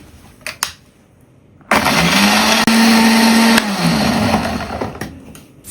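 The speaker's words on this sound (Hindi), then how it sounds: "अब सारी चीज़ों को ब्लेंड कर लें।" Blender whirring through a garlic, vinegar and sugar sauce: a loud, steady motor roar that starts abruptly, holds for about two seconds with a rising pitch, then eases off, with no talking.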